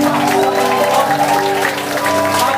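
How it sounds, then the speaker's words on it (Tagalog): A church congregation claps together in praise at a worship gathering, a dense burst of hands under sustained tones from music or voices, loud and close. "Palakpakan natin ang Diyos. Palakpak."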